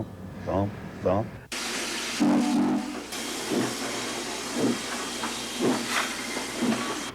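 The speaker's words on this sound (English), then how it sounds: "either the air pump's working, which sound just like they're breathing" A steam locomotive's steady steam hiss runs throughout, with rhythmic breathing-like thumping pulses of its air pump repeating about once a second, preceded by a brief rumble.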